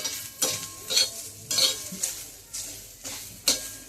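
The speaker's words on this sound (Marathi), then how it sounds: "चांगली भाजून घ्यायचा कांदा, टोमॅटो, लसूण" Onion, tomato and garlic roasting in a pan with oil, stirred with a utensil in about eight regular scraping strokes under a soft sizzle, close and fairly loud.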